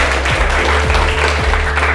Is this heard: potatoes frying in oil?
no